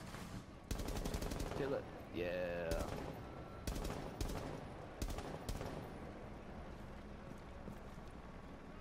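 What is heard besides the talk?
gunfire in video game Rainbow Six Siege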